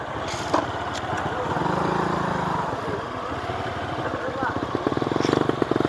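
A Honda Verza motorcycle engine labours up a hill, a close, steady mid-pitched drone with throttle surges and a rapid putter toward the end, while voices speak over it.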